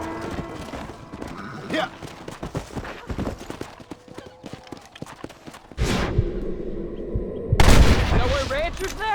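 Horse hooves clatter in a rhythmic gallop in the Western game Red Dead Redemption, with a short spoken word and louder bursts of action sound toward the end.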